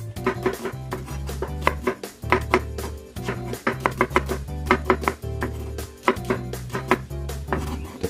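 A knife quickly and steadily slices green onion against a cutting board in bursts of rapid taps with brief pauses, close by, with a low hum behind.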